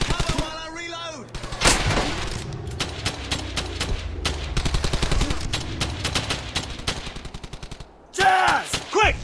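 MG-42 machine gun fire in the World War II shooter Brothers in Arms: Hell's Highway, long rapid bursts of loud rattling shots near and far, broken by single heavy blasts, with soldiers shouting over the fire.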